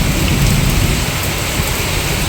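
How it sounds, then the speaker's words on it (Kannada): Heavy rain pours in Ranebennuru, a dense, loud, steady hiss of drops on surfaces, close and unbroken, with no distinct thunderclap or hail strikes standing out. "ಗುಡುಗು ಮಿಂಚು ಸಹಿತ ಭರ್ಜರಿ ಮಳೆ ಆಗ್ತಾ ಇದೆ"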